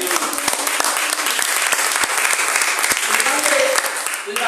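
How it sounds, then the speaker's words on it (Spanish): A church congregation applauding during a Spanish-language sermon, sustained loud clapping from many people filling the space, fairly close and continuous before tapering slightly at the end. "Denle ese aplauso al Señor."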